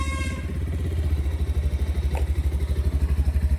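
A 2025 Bajaj Pulser 220F motorcycle idles steadily close by, its single-cylinder engine thumping in a low, even pulse after starting, with a brief mechanical clack partway through.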